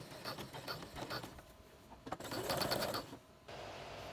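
A sewing machine runs a second straight seam along a fabric scrunchie, its motor whirring in steady bursts with short pauses between stitching runs, close and clear with no talking.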